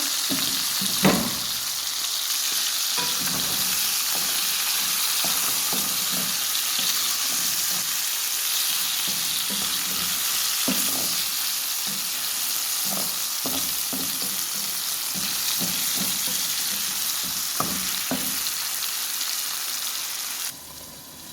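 Meat and onions frying for Korean-style rice make a continuous loud sizzle, broken by repeated scrapes and knocks of a utensil stirring the pan, close by and with no talking.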